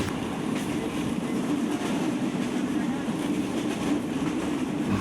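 Rocket mail train on the Khulna to Jessore run, a steady dense rumble and rattle of carriages heard from inside, continuous and unbroken with faint wheel clatter throughout.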